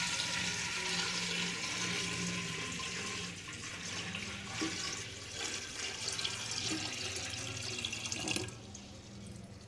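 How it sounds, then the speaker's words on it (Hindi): Water pours steadily into a clay pot while pickle is being made, a continuous close splashing rush that eases and then cuts off near the end. "देखिए मटकी के अंदर पानी डालना हमने शुरू कर दिया है।"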